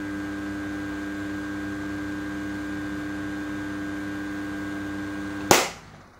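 An electric fan motor running on a modified sine wave inverter gives a loud, steady buzzing hum, cut off by a sharp click followed by a brief decaying noise.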